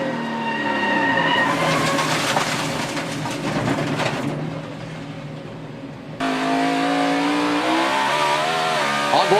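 Onboard a 2013 NASCAR Sprint Cup race car in a crash: a loud, close engine roar with tires skidding and squealing, the sound cutting out abruptly and resuming with a high engine whine.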